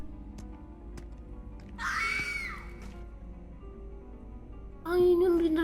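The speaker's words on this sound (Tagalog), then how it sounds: "May sumisigaw bigla-bigla ah." A sudden scream in the autopsy simulator game cuts through a quiet background, followed later by a second sharp, loud vocal outburst, with a faint hum underneath.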